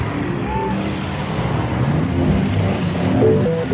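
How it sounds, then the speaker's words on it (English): City traffic with cars rolls by as a steady, fairly loud road rumble and engine hum, swelling slightly toward the end, with no talk. "And traffic."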